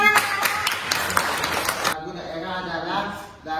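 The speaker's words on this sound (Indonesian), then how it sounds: "Bagus, kita kasih tepuk" An audience claps at a teachers' workshop session for a group's regional-song presentation: a dense burst of clapping for about two seconds that stops abruptly, followed by quieter room sound and faint talk.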